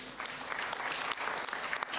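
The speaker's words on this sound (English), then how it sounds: "Can we clap hands for that resolution?" Assembly delegates at a football confederation general assembly clap steadily for an adopted resolution, a dense, even patter of many hands across the hall.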